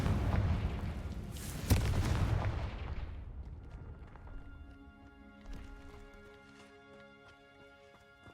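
Confringo explosion spell cast in Hogwarts Legacy: a loud, fiery blast with a sharp crack, rumbling and decaying over a few seconds into softer ringing game ambience and music.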